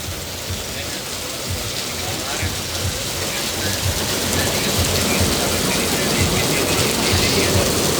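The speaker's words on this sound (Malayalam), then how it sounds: "നല്ല മഴ" Heavy rain in the desert pours steadily onto a hard surface, a loud continuous hiss that builds slightly over time, with a voice faintly beneath it.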